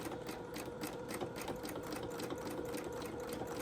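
A sewing machine stitches fabric in free motion quilting, its needle chattering in a fast, steady, even rhythm, quiet and close, with no voices.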